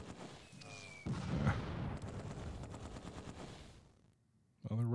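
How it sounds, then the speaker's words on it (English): Mortar fire in the Close Combat 2 war game, a loud burst of blasts and rumbling gunfire that sustains for a few seconds, fades away, then returns sharply at the end, with a voice heard briefly at the start. "I love the sound of mortars sliding down tubes."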